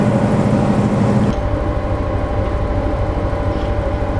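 Steady low rumble with a strong tonal drone inside the cab of an EMD F7 diesel locomotive gathering speed, the rumble carrying a pulsing vibration; a brief louder patch at the start, then even, close running.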